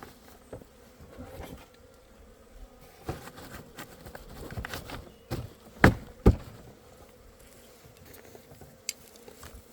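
Asian honeybees buzz around a hive in a soft, steady drone, with occasional taps and knocks from hive frames being handled nearby.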